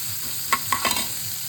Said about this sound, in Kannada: ಈಗ ಬೆಳ್ಳುಳ್ಳಿ ಈರುಳ್ಳಿ ಎಲ್ಲ ಹಾಕಿದ್ದೀರಿ. ಇದು ಹಾಕಿ ಸ್ವಲ್ಪ ಬ್ರೌನ್ ಕಲರ್ ಬರೋವರೆಗೂ ಫ್ರೈ ಮಾಡ್ಕೋಬೇಕು.